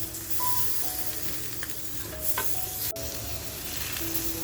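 Butter garlic tiger prawns sizzle over a full, high gas flame, a dense close hiss with scattered metallic clinks and faint tonal squeaks from the pan.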